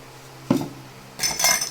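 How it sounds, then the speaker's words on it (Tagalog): Glasses and dishes being washed clink against each other in two short bursts: a single knock of crockery, then a quick cluster of clattering glass and dish sounds, close by with no talking. "Ang ginagawa ko ngayon ay naghuhugas ng mga baso at pinggan."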